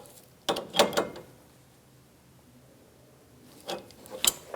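Adjustable wrenches snug the AC condenser line fittings on a 1988–1999 GMC K1500, heard as two short bursts of close metallic ratcheting clicks separated by a quiet pause, with no talking.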